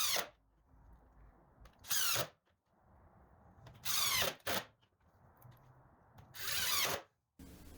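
A power drill drives wood screws into a 2x4 raised garden bed frame in four loud, close bursts of whirring, each a second or so long, separated by quiet gaps and small handling noises.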